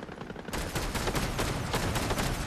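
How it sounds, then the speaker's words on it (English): Rapid gunfire in an online shooter game comes as dense bursts of shots from automatic weapons, loud and continuous after a short quieter lead-in, with no voices. "Oh, we got shooting."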